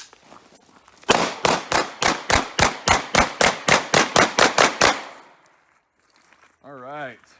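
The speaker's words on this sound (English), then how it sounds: "Now I'm going to do some walking and firing." A FEG P9M 9mm pistol, a Hungarian copy of the Browning Hi-Power, fires about fourteen sharp, evenly spaced shots in quick succession while the shooter walks, loud and close, followed by a pause and a brief voice.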